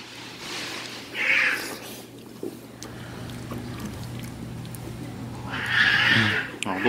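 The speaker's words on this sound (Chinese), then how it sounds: "路上的猫咪在吵架，还真有趣。" Cats squabble out on a street, two loud yowling outbursts some seconds apart over a background of traffic and general street noise.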